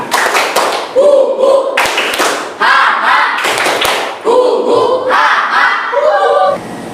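A classroom of children performs the 'tepuk Indian' clap chant, with rhythmic group clapping and thumping mixed with loud shouted chanting and whooping cries in repeated bursts.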